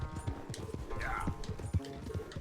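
Quick, rhythmic hoofbeats of a galloping horse in the video game Red Dead Redemption 2 clatter steadily during a race, with a short whinny-like cry and voices layered over the pounding.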